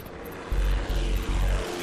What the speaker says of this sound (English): Finally, the plane took off.